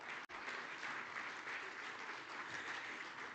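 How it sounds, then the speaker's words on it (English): Delegates at the Namibia Oil & Gas Conference 2025 give a steady, even round of applause, a continuous wash of many hands clapping at once with no talk over it. "Let's give them a round of applause."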